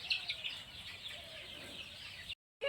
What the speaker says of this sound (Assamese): এইবিলাক আছে লোকেল মুৰ্গীৰ ফাৰ্ম